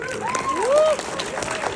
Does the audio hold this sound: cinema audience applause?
yes